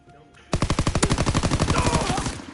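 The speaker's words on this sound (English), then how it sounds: "Yes, machine guns." Rapid machine gun fire from a video game, about twenty evenly spaced loud shots in a fast burst right after a brief quiet click.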